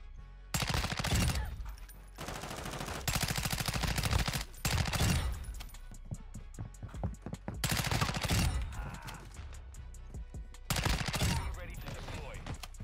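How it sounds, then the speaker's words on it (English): Bursts of automatic rifle fire from the Honey Badger (Chimera) assault rifle in a Call of Duty MW2 free-for-all match on Al Bagra, several long loud volleys separated by short pauses, with dense rapid shots. "hop into a free-for-all game using the new Honey Badger slash Chimera assault rifle"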